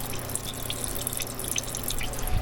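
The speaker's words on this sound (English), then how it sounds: "I'm going to drain the fluids." Fluid drains from a Jeep Wrangler YJ's 2.5L engine, trickling and dripping steadily into a pan nearby, a faint continuous patter of droplets.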